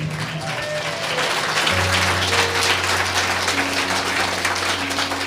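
A church congregation applauds steadily and loudly, a continuous wash of clapping with a low hum and faint voices underneath.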